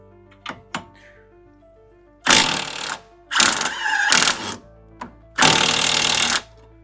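An impact wrench with a regular chrome socket hammers at a sway bar end link nut on a 2005-2014 Ford Mustang, three loud rattling bursts of a few seconds each, preceded by a couple of faint clicks.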